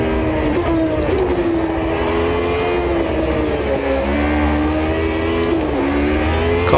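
Race car engine in the Automobilista 2 racing game, a 1988 Formula One car at Bathurst, holds a loud, steady high whine, its pitch climbing and dipping through gear changes without a break, with no talk over it.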